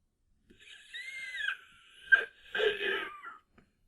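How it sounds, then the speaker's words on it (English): A creature in the anime Overlord lets out a short wheezing squeal, a rising and falling high-pitched cry followed by a sharp burst and a second strained, breathy squeal, close and isolated. "What was that squeal?"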